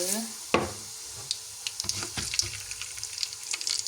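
Mustard seeds dropped into hot oil for a tempering with peanuts, giving a sharp hiss and then scattered small pops and crackles over a soft sizzle, close and fairly quiet, with a few faint stirring scrapes.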